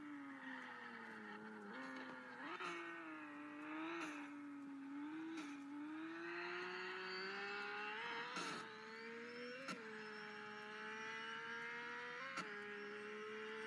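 A drift car on a track in CarX Drift Racing, its engine revving and wailing in rising and falling sweeps with tire squeal, shifts and throttle blips across a sustained continuous run.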